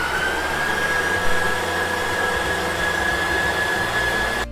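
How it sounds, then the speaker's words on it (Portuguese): Electric mixer beating chocolate cake batter as egg yolks are added, a loud steady motor whine with a constant high tone running throughout, close and unbroken until it cuts off at the end. "Então aqui a gente liga a batedeira e eu vou começar a colocar essas gemas."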